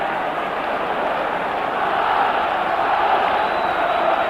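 A packed football stadium crowd at a 1993 Champions League match, Rangers FC against CSKA Moscow, roars continuously to cheer Rangers on, a loud, even wall of massed voices from the stands.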